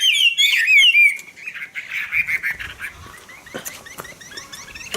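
A Chinese hwamei songbird sings loud, rapid, sweeping whistled phrases at close range, then continues with softer fragmented chirps and short trills alongside scattered clicks and light rustling.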